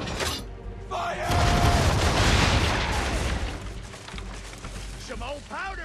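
Ship cannons fire a booming broadside in Assassin's Creed III, with a heavy blast and crackling debris trailing off, amid creaking mechanisms and shouted voices aboard the vessel.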